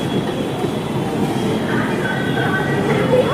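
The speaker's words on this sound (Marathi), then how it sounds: "आपली मेट्रो पण आली आहे" A Nagpur metro train rolls into a station with a loud, steady rumble of wheels on rail and faint high squeals as it slows, filling the whole clip close by.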